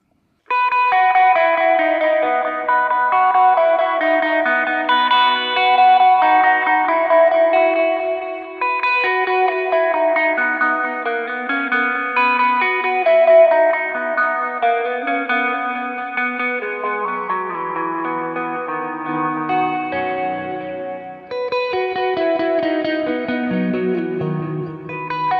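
A guitar played through a Kemper amp filter effect, a dense sweeping chordal wash with a shifting, modulated tone and shimmering chorus-like movement, loud and continuous for the whole stretch.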